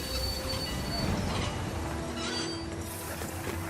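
A train runs steadily with a thick rumble and a high, drawn-out metallic squeal from its wheels, loud and continuous throughout.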